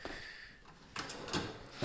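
A kitchen drawer slides and thuds shut, followed by a couple more quick sliding knocks, close and fairly quiet.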